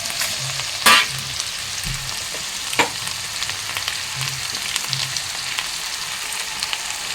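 Cauliflower and potatoes with turmeric, salt and green chillies fry for a curry in a pan, sizzling steadily up close, with a few louder clanks and scrapes of stirring and no talk.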